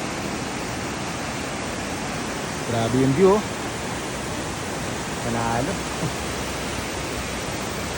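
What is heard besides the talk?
Bridal Veil Falls waterfall on Kennon Road, strong flow from rain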